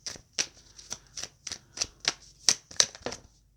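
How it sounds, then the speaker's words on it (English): Tarot cards are shuffled in a quick run of about a dozen crisp riffling bursts, close and clear in a quiet room with no talking. "Give it a good shuffle,"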